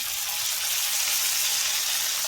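Masala and chopped broccoli hiss and sizzle steadily in a hot frying pan for broccoli palya, a dense continuous crackle close by with no talking.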